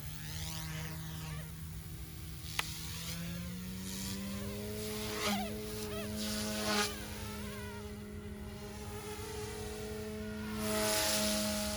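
An OMPHOBBY M2 Explore RC helicopter flies in idle-up mode, giving off a steady, buzzing rotor and motor whine whose pitch shifts slightly as it manoeuvres, fairly faint and on its own.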